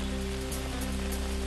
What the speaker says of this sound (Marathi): सतत पाऊस पडत राहिल्याने सखल भागात पाणी साचण्याची शक्यता।